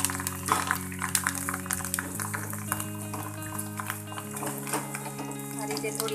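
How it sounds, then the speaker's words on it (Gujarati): Sabudana-potato chakli fries in hot oil with a continuous soft sizzle, scattered crackles and faint utensil clinks over a low steady hum. "હવે આપણે ચકલીને તળીને તૈયાર કરીશું"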